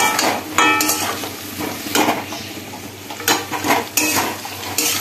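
Goat liver curry ingredients fry in a pan with a continuous sizzle, broken by repeated scraping and clinking strokes of a spoon against the pan. The sounds are close and fairly loud.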